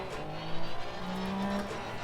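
A Porsche race car at Paul Ricard circuit accelerates out of a corner with traction control set to TC4, its engine note climbing steadily and holding a strong, close drone before easing slightly near the end.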